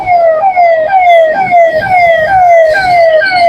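A loud wailing ambulance siren cycles rapidly with repeated falling sweeps, close and dominant, over a low background of traffic noise in a flooded, jammed street in Ranchi.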